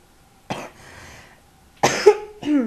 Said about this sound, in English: I'm still coughing, yes, well done.